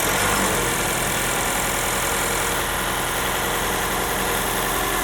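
Steady hybrid engine hum of a 2025 Toyota Crown Signia idling close by with the hood open, a constant mechanical drone with light vibration and no voices.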